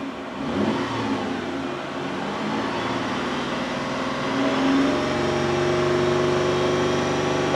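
A car engine with a camshaft position sensor fault idles and then revs up, a steady mid-pitched drone that climbs and holds at higher revs, close and continuous with no voices.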